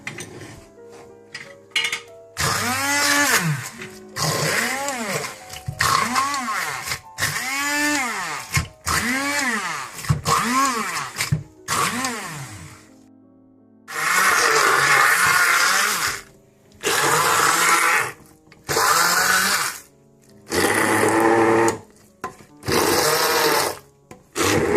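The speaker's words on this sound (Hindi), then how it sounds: "मैं इसे ग्राइंड कर लूंगी।" Electric grinder pulses through cooked meat for haleem in a home kitchen, loud whirring bursts repeated a dozen or so times with short pauses between, the motor pitch sagging under load in the early runs.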